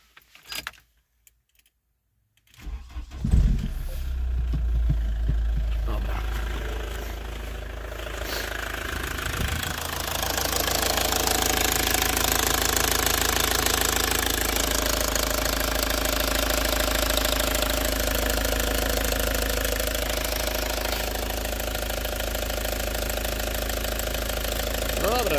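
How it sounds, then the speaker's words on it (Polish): An Opel Astra G engine cranks and catches, then settles into a steady, slightly rough idle heard up close for over twenty seconds, with a few clicks and rattles in the car. "może uruchomię motor i zobaczyć jak to działa, jak to gada."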